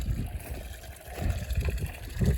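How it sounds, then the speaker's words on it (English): A small, weak trickle of water runs from a pump into a cattle trough in winter, a close, continuous low wash and gurgle without talk. "That little trickle, it's actually pumping a little bit better than it was yesterday."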